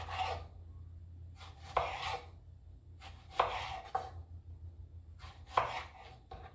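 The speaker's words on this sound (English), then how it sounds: "So the plantain is going on the grill, as I said, so I'm just going to cut it right in the skin" A knife cuts through a plantain in its skin on a board, giving several crisp, close chopping strokes spaced irregularly, each with a short scraping rasp, over a low steady hum.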